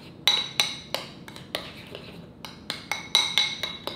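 A spoon stirs cinnamon into a bowl of food, striking the bowl with a dozen sharp, bright clinks in an uneven stirring rhythm. The clinks are close and distinct, with no talking.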